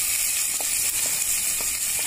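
Sliced onions sizzling in hot oil in a pan, a steady close frying hiss with a few soft stirring knocks and no voices.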